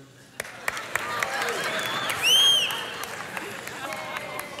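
A church congregation cheering and clapping, a dense spread of applause and voices that swells midway with a brief whistle-like tone, then settles into scattered claps and crowd murmur.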